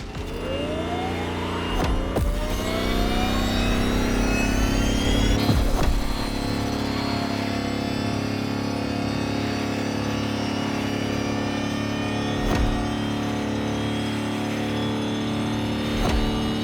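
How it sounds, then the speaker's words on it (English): Electric Lamborghini hypercar concept driving in The Crew Motorsport racing game, a steady loud electric whir with rising tones and occasional sharp transients, continuous throughout with no talk. "A hyper Lamborghini, pushing the bull standards to the extreme. An electric monster."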